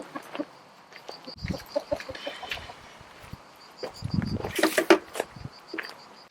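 A chicken clucks and squawks in soft bursts while being handled and placed into a box, with scuffling, rustling and thumps around it and a steady insect-like chirp in the background.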